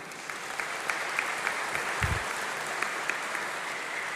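Sustained audience applause at a university summer congregation ceremony, a steady dense patter of many hands clapping throughout, with no voices over it.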